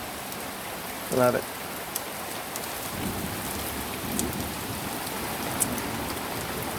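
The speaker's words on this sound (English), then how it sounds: "Just wanted to say we're having an awesome rain." Heavy rain falls steadily in Southwest Missouri, a dense close hiss throughout, with a brief spoken remark near the start.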